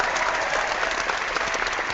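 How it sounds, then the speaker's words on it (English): Steady applause sound effect, a dense wash of many hands clapping evenly throughout, with no voices over it. "I like applause like the next guy"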